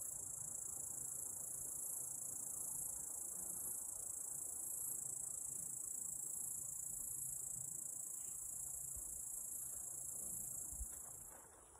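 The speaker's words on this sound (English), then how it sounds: "Can you hear the crickets?" A steady, high-pitched chorus of crickets trilling continuously on a hike between Leavitt Lake and Latopie Lake, a dense outdoor background with no talking.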